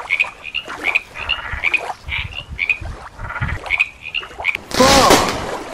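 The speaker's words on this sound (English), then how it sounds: "There's also a green frog over there" A green frog croaks outdoors in a series of short, repeated calls at an irregular rhythm, fairly close by, followed at the end by a louder, brighter burst of noise.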